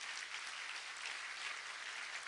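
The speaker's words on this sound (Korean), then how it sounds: "박수 한번 크게 보내주십시오" Quiet but continuous applause from a citizens' roundtable meeting audience in Daegu, an even, dense patter of many hands with no breaks, heard at a distance.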